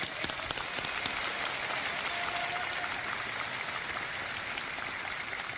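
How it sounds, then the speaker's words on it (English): Live audience applause at Star Citizen CitizenCon 2024 convention event, a steady, dense wash of clapping from a large crowd at moderate distance, sustained throughout without talk. "please give a round of applause for Tyler Wicken."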